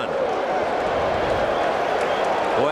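A broad, steady roar from a packed baseball stadium during Game 2 of the 1986 World Series, Red Sox at Mets, with cheering and clapping blended into a continuous din.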